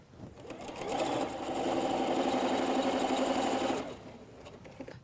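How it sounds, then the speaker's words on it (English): A sewing machine stitches pillow fabric for a bench cushion in one steady, fast whirring run of about three seconds, close and loud, starting and stopping cleanly. "we're ready to go straight to the sewing machine."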